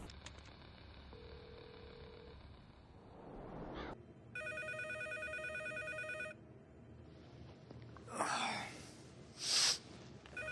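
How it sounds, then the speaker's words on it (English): A telephone rings in a movie scene, a steady electronic ring lasting about two seconds, followed by fainter rustling and short noisy bursts. "then it cuts to this guy's phone ringing"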